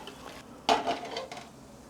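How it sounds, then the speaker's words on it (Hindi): Potato and corn tikki are turned over in a pan with two spoons, giving one sharp metallic clink of spoon against pan followed by a couple of softer scrapes over a faint sizzle. "2 चम्मच की मदद से ही आपको एहतियात से इसे पलटना होगा, तो ये आसानी से पलट जाती है।"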